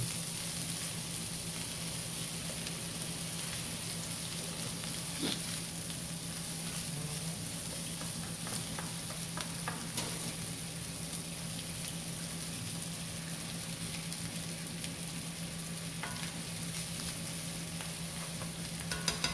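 Day-old rice fries with garlic in a pan for Filipino sinangag, giving a soft, steady sizzle with occasional stirring scrapes that runs evenly for about twenty seconds, quiet and with no talk.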